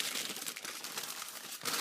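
A plastic bag holding a red dot sight crinkles and rustles continuously up close, with brief sharper crackles as the bag is handled and opened.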